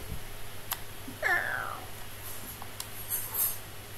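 A person imitates a cat with a single short, rising-then-falling meow aimed at a small young pet cat, faint against quiet room tone, followed by a few soft clicks.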